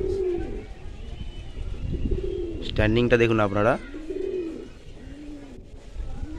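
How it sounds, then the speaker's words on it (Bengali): Pigeons coo softly in a loft of paired show pigeons, repeated low rolling calls near and far, with someone speaking briefly in the middle. "তারপর মেল পায়রাটি গেল।"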